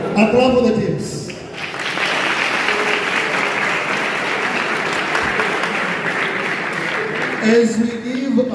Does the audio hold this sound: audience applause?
yes